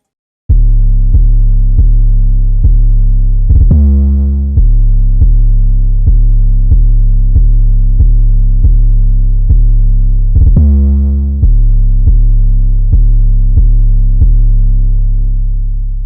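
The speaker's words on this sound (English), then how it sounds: "So for the 808, I laid down a pretty simple pattern, just added this roll" A deep 808 bass pattern in a trap beat: loud booming sustained bass notes in a steady repeating rhythm, with two quick stuttering rolls breaking the pattern, played alone without drums or voices.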